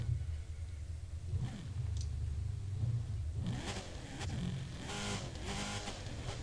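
Chevrolet Camaro ZR1 engine in the racing game The Crew 2, a low steady idle rumble that rises into several short revving bursts toward the end, loud and close with no talking.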